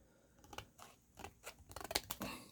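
Scissors snip clear plastic cab glass sheet for a custom farm toy, a series of small sharp cuts at close range, quiet and irregular, growing busier toward the end.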